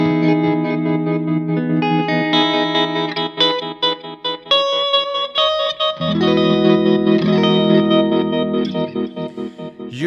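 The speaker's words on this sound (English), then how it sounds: "You could add a tremolo to the repeats." Electric guitar through a Strymon delay pedal with tremolo applied to the repeats: layered sustained notes and echoes, with pulsing, choppy swells in the trailing sound, loud and alone.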